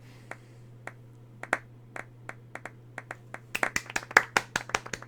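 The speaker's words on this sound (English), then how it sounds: "Golf clap." A single pair of hands claps slowly and softly, a scattered run of light claps that picks up slightly in pace toward the end, with no talking.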